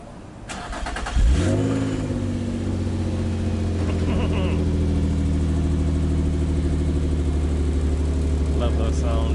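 An Infiniti G35 Coupe engine fires up with a sharp surge, then settles into a steady, loud, deep idle that holds to the end, while a voice speaks briefly over it.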